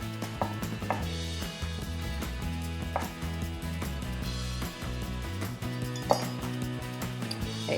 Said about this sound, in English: No fancy knife skills needed, just a coarse chop, just small enough so it'll fit on a spoon and make it easy to eat.